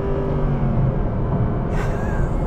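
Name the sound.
Mercedes SLS AMG Black Series naturally aspirated V8 engine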